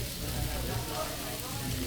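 Food deep frying in sauce in oil, a steady close sizzle and crackle running under brief talk.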